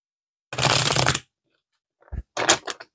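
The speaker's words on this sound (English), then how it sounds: "I only shuffle these in the upright" A small tarot card deck is shuffled by hand, with one crisp riffling burst followed a moment later by a few shorter rustling bursts, close and with no voice.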